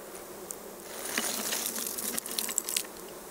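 A swarm of honey bees buzzes in a continuous, close drone during removal of a wild hive from an old abandoned car, with scattered sharper buzzes and small knocks rising toward the end.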